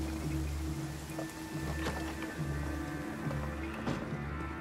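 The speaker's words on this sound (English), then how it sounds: "It's always raining here." Rain falls in the video game Banishers: Ghosts of New Eden as a soft, steady patter over low humming game ambience, with a few faint thuds scattered through it.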